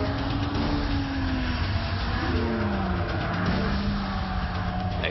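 A Lotus Exige LF1 drives on a soaked race track, its engine note rising and falling through gear changes over a steady wash of road and spray noise.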